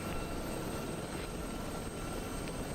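Mi-8 helicopter in video game combat, chased by a Gazelle, giving a dense, steady rotor and engine roar with no gaps over a few seconds.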